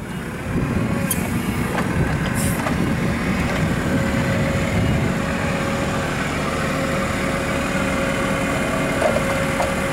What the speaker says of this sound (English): The mast has tilt function forward and back.